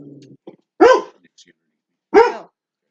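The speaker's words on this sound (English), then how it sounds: "I don't know why he's barking." A dog barks twice indoors, two loud, close, separate barks about a second and a half apart, with a brief low voice murmur just before the first.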